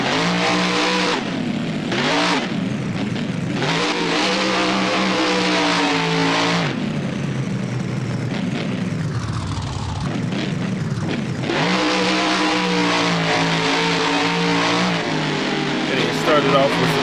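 Monster truck engine in BeamNG revving loudly and continuously at a stadium freestyle course, climbing and falling in pitch over repeated throttle swells, with a brief dip in the middle before surging again.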